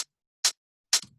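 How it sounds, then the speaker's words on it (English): Tech house hi-hat sample struck three times at an even pace, each a short crisp bright tick, the last trailing into a faint low tail, alone with silence between. "and the hi-hats I put in on the upbeat"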